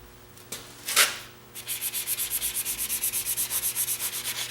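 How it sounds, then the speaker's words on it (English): Sandpaper rubbing rust off the crankshaft of an 8hp Tecumseh engine: a couple of scrapes, then a run of quick, rhythmic back-and-forth strokes, close and loud with no talk. "I'm going to just do a little quick touch up here with sandpaper just to clean it up a little bit"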